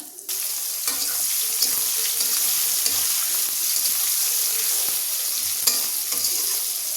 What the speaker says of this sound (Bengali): এখন পেঁয়াজগুলো ভেজে নিই।